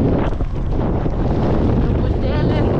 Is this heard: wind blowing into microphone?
yes